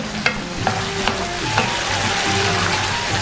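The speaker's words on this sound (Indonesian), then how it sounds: "Ini kita tumis sampai wangi ya." Whole bird's eye chilies stir-fry in a hot pan with a constant close sizzle, broken by a few crisp spatula taps at an irregular pace.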